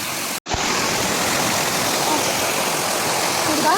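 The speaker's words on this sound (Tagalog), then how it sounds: "At tingnan nyo, meron silang waterfalls" A small waterfall pours from an irrigation channel in a steady, rushing roar close by, interrupted by a brief dropout near the start, with a faint voice over the water.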